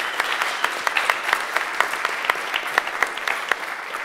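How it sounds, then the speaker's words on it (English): A crowd applauding guest speakers at an evening industry talk, brisk sustained clapping with distinct individual claps popping out of the dense patter, loud and close. "let's have one big round of applause for tonight's guests"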